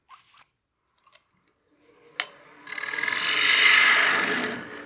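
A wood turning tool cuts the inside of a wooden coin box on a lathe. A faint tap and a sharp knock come first, then a steady, rising rasping scrape of the cut fills the rest.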